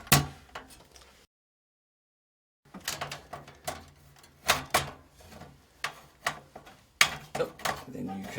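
Screws being undone on the drive and power-supply bracket of a 1992 Apple Macintosh IIvi, heard as close, repeated short clicks and ratcheting metal scrapes in uneven bursts, with a brief silent gap near the start.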